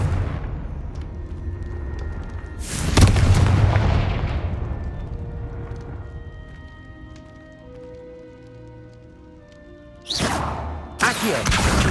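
Confringo blasting spell in Hogwarts Legacy, with a loud, booming explosive burst that fades in a long rumbling decay, followed by two more sharp blasts near the end.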